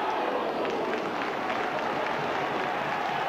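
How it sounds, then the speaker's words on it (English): Roaring crowd at a 1985 St Helens versus Hull rugby league match, a dense continuous wall of cheering and noise, loud and sustained. "The crowd roaring and rising to their team."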